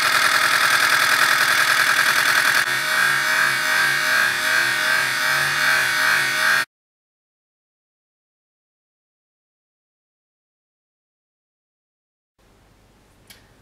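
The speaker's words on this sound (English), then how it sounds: "this is a Hellcat running on 3S, and this makes quite a noise" A Hellcat motor in a Rapidstrike foam blaster spins on a 3S LiPo battery with a loud, high-pitched whine for several seconds, then cuts to silence before a faint brief sound near the end.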